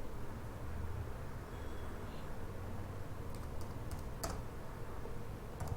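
Soft, close keystrokes on a computer keyboard tap out a program over a low background hum, with a few sharper clicks later on.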